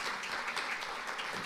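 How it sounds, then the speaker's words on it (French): Audience applause after a talk on tax evasion and whether Europe protects the rich, a steady, even wash of many hands clapping, moderately soft and continuous throughout. "On peut vous applaudir très fort"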